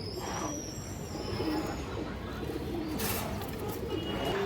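A female Musaldom pigeon coos softly in low, throaty bursts against a steady background hum, with faint chirps from other birds nearby.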